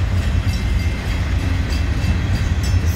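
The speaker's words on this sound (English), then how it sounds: "I swear I hear the other train coming." Freight train rolling past a rail spot in Windsor, Connecticut, a steady loud rumble with continuous wheel and car noise, close and without voices.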